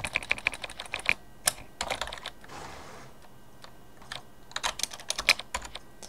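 Typing on a computer keyboard, entering a name in a horse-riding game: bursts of quick, close key clicks in uneven clusters with brief pauses, no talking.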